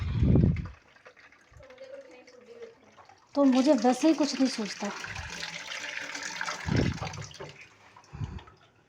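Water pours into a mug in a home kitchen during hot weather, a splashing fill of a few seconds between bursts of conversation in Hindi.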